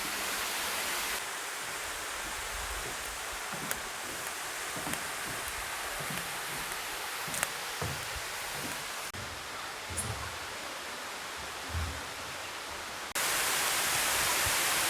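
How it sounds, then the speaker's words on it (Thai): Bua Tong waterfall near Mae Taeng, Chiang Mai, heard as a steady, broadband rush of falling water, filling the whole clip with constant hiss and roar, with occasional faint thumps and a slight rise in level near the end. "เราจะเดินลงไปชมน้ำตกกันนะคะ"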